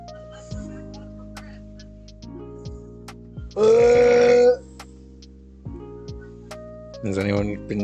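Game audio during a development stream: a loud, brief cartoon burp rises out of tonal background sound effects, followed by a second, shorter burp-like sound a few seconds later.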